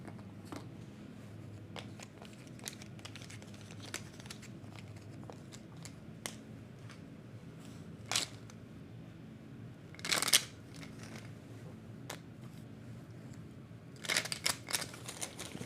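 Cards for the Railroad Tiles board game are shuffled by hand on a table, giving quiet riffling and crisp snapping bursts scattered over a soft, low background.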